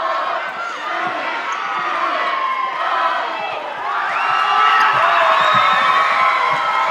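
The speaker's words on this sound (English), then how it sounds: "Countdown by the crowd." Crowd at a school netball tournament's D grade final, a loud, dense roar of many voices sustained throughout, swelling into brighter cheering and shouting in the second half.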